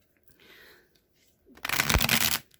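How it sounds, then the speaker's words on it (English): A few soft rustles of cards being handled, then one loud, quick riffle shuffle of tarot cards close by, about a second long. "let's just give these cards a couple more shuffles here"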